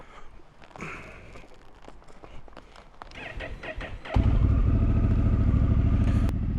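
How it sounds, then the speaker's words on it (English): Shuffling and clatter give way to a Honda Africa Twin motorcycle with a Fuel aftermarket exhaust firing up, its exhaust rumbling loud, deep and steady at close range. "have a listen to this gorgeous exhaust by Fuel."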